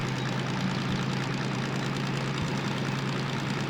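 A DM3 diesel locomotive from the Derail Valley simulator game runs steadily with a low, droning engine hum at constant revs, even and continuous with no talk over it.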